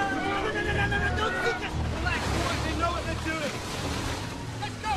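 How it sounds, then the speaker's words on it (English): Rough sea waves and a rescue boat racing at full speed through rain make a constant roaring wash of surf, wind and engine drone, with faint distant voices mixed in. "The rain and waves make finding the raft difficult."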